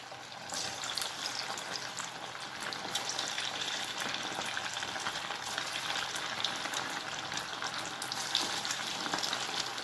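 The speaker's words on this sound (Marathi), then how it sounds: "चला तर आपण एक एक करून हे तळून घेऊया" Pieces of chicken 65 fry in oil over a medium flame, giving a steady, dense, crackling sizzle that carries on unbroken at moderate volume, with no talking.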